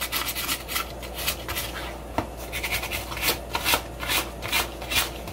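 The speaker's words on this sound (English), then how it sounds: "I'm going to use some 220 grit sandpaper, and I'm going to work some of these edges" Sandpaper of 220 grit rubbing along the edges of a metal lightsaber emitter piece, giving a dry, rasping scratch in short repeated strokes, close and fairly quiet with no voices.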